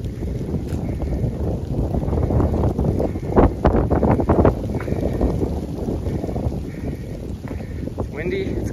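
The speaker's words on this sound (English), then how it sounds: "It's windy, it's cold, and we're being hailed on." Wind roars and buffets the microphone in a continuous low rush on a cold, hailing day in a forest with snow on the trees, with brief bursts of people talking partway through.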